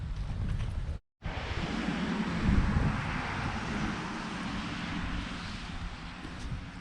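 Wind and fine drizzly rain outdoors on a farm, a steady broad rush of gusting air buffeting close to the microphone, with a brief dropout early on.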